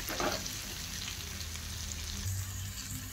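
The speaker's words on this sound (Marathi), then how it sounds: "आता परत आपल्याला ही छान असं परतून घ्यायचं आहे" Sliced bitter gourd stir-fries in a pan, a continuous close sizzle with a brief burst of stirring at the start and no talk over it.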